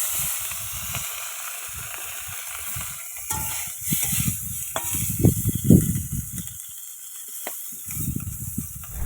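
Fish sizzling and frying in a hot pan on a riverside Sundarbans cookout, a continuous hiss of oil with bursts of louder crackling and stirring clatter, close and prominent, swelling in the middle and again near the end.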